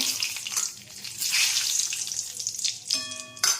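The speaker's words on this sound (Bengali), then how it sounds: "পকোড়া ভাজার তেলটাই আছে, ওইটাতে একটু তেজপাতা দিয়ে দিচ্ছি" Bay leaves dropped into hot oil left over from frying pakoras for chilli chicken give a sharp, close sizzle and crackle, with stirring, then a short tonal hum near the end.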